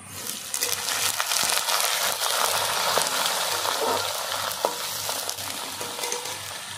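Potato pieces fry in hot oil with garlic and a bay leaf, giving a steady, loud sizzle broken by occasional scraping stirs, with no talking.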